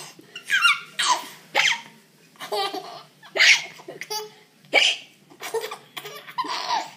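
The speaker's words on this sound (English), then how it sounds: "Have we both got the hiccups?" A young child hiccups repeatedly at the dinner table, each sharp hiccup broken up by giggles and breathy laughter in an uneven rhythm, loud and close with short pauses between bursts.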